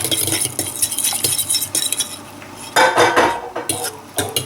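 A fork stirs melted butter into orange breakfast muffin batter in a bowl, giving steady scraping and clinking strokes with a few louder knocks against the dish, close and with no talk.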